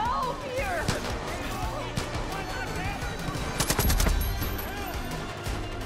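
Rapid automatic gunfire from an enemy shooter in the open-world shooter Far Cry 5, sustained crackling bursts and impacts filling the scene, with game character voices talking over the shooting.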